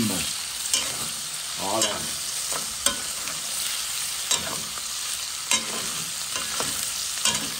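Ham cubes for a Réunion-style rougail caramelizing in a hot pan, a steady bright sizzle with periodic stirring scrapes and clatters throughout; one brief spoken word near the start.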